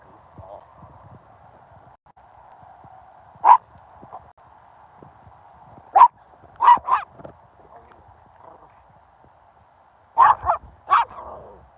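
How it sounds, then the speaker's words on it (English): A pet dog on a Friday morning walk lets out a few short, excited barks and yips in quick clusters after spotting another dog, heard outdoors over a steady background hum. "Rosie saw another dog and she got very excited."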